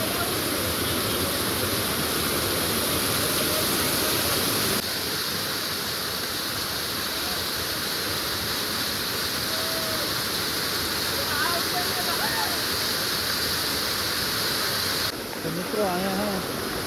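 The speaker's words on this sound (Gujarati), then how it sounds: "હા આ જે ધોધ પડે છે ને" Steady, loud rushing roar of a waterfall at the Jatashankar temple on Girnar mountain, continuous water noise throughout with occasional faint voices underneath.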